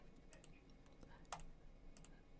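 Computer keyboard typing at a desk while setting up a firewall group, a few quiet scattered keystrokes with one sharper clack near the middle, heard faintly and close with no talk.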